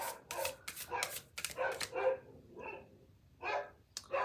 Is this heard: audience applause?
no